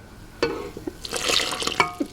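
Yeasty water with dissolved sugar poured into a bowl of flour, salt and olive oil for homemade pizza dough, giving a close splashing trickle in short bursts with a few drips near the end.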